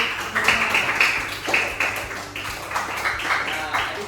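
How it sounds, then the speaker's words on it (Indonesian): Hands clapping in an elementary school classroom, a group of pupils giving uneven bursts of applause that rise and fall in short waves, with some voices mixed in. "Tepuk tangan dulu"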